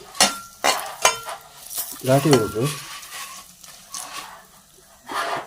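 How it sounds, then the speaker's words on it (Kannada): Dried red chillies fry in hot oil for home-style sambar, a soft crackling sizzle broken by sharp metal spoon clinks against the pan and brief stirring scrapes. "ಘಾಟಿ ಮೆಣಸು ಹಾಕಿದ್ದೇನೆ. ಅದು ಎಣ್ಣೆಯಲ್ಲಿ ನಾನು ಫ್ರೈ ಮಾಡ್ತಾ ಇದ್ದೇನೆ ನೋಡಿ."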